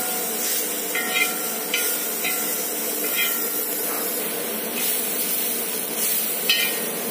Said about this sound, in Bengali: দেখুন ভাজা হয়ে গেছে। আমি কোনো তেল দিয়ে ভাজিনি।